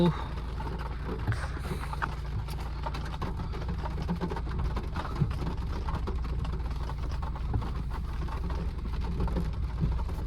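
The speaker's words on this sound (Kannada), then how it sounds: "ಮಳೆ ಬರ್ತಾ ಇದೆ" Steady rain drums on a car parked after a temple event at Sri Chowdeshwari temple, a dense even wash over a low engine rumble, with people talking inside the car.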